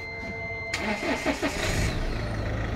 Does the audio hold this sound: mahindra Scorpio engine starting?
yes